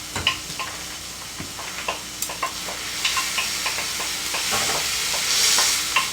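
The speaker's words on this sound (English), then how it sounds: "we're going to fry that up too" Diced vegetables and garlic for a shepherd's pie frying in a pan, a bright continuous sizzle punctuated by repeated sharp clicks and scrapes of a utensil stirring, close and without talk.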